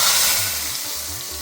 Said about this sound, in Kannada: ಈಗ ಇದಕ್ಕೊಂದು ಒಗ್ಗರಣೆ ಮಾಡಿ.